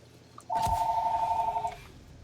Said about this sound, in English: Alright, so I get the phone to answer.